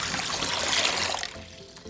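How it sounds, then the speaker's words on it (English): Water poured from a beaker into a gallon Ziploc bag, a short close-up gurgling splash that runs steadily for about a second and then tapers off quickly. "let's pour in the water"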